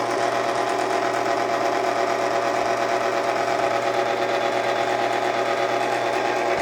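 A hand-cranked or motorized pasta machine feeding homemade fettuccine dough through its rollers gives a steady, continuous mechanical whir and rattle, loud and unbroken throughout, with no talking.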